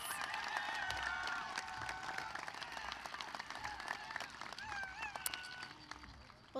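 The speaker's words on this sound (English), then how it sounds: "Can we have another round of applause for Chef Garces?" A commencement crowd applauds Chef Garces with steady, fairly distant clapping in a large hall, while scattered cheers and whistles rise above it and a voice briefly calls out.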